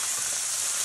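Beef liver fries with garlic and onions in a pan, a steady, close, bright sizzle that holds without a break.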